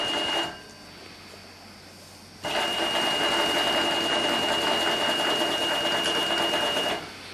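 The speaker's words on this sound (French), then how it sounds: "Je laisse faire ma machine, elle me sort mon ourlet tout seul." A FREZAL H101 overlock sewing machine stitches a hem in fabric, running steadily and loudly up close for several seconds after a brief quieter idle stretch, with an even, dense mechanical hum and no talk.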